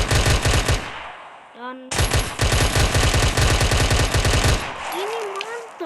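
Rapid automatic bursts from a Glock 18 pistol in a video game, loud sustained strings of shots broken by a short pause, with a brief voice between bursts and a tonal game sound near the end.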